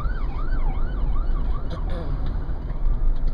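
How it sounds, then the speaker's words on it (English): A wailing ambulance siren sweeps up and down in pitch over loud traffic rumble, close by and steady. "Got a little ambulance."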